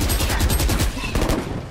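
Rapid bursts of gunfire from the video game Valorant crackle loudly and densely for under two seconds, with overlapping shots trailing off at the end.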